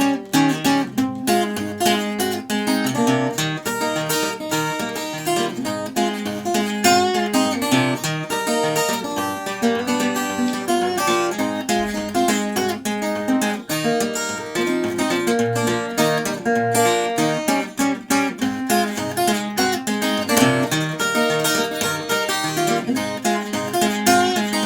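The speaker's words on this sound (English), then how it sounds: "it's a lovely sounding guitar." A very light guitar from Daves Guitars played in a bluesy style, dense strummed chords and picked notes ringing out continuously for the whole stretch, close and with no talking.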